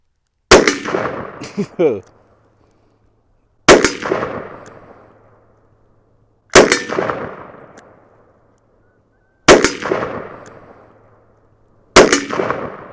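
A Taurus Tracker .44 Magnum revolver fires five loud, sharp shots about three seconds apart outdoors, each blast ringing out and fading before the next.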